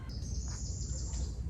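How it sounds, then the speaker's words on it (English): Birds chirping in a park in Orlando, Florida, a high, thin steady trill with a couple of brief calls, fairly faint over low outdoor rumble, with no talking. "You can hear the birds chirping if you listen."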